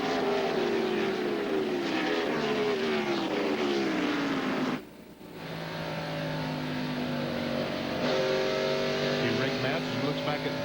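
A NASCAR Cup race car at Darlington in 1998 roars at full throttle, its engine note climbing and falling, briefly cutting out before returning loud and sustained, with a commentator talking over it.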